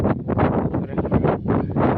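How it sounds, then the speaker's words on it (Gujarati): Cool wind blows across open village farmland, buffeting the microphone in loud, gusty bursts for two seconds. "સરસ મજાનો ઠંડો ઠંડો પવન આવે છે અત્યારે"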